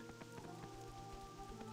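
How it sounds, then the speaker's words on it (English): Rain falling at night in the forest zone of Ashenvale in World of Warcraft, a quiet, steady patter of drops under faint ambient game tones, with no speech. "It's dark out and it's raining."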